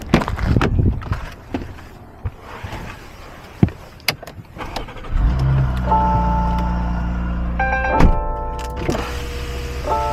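A Porsche rolls into a workshop bay, with scattered knocks and clatter first, then a steady low engine rumble for the second half, joined near the end by a bright repeating chime.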